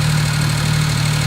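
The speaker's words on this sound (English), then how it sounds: "the vehicle has started motion and it is moving" A wireless-controlled van's engine runs with a loud, steady, low hum at close range as the van begins to move, with no voices.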